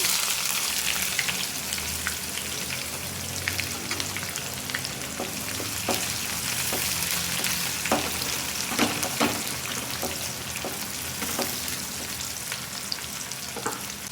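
Chopped onion frying in a pan of oil for a potato kurma, a dense, even sizzle with scattered crackles and pops running steadily throughout.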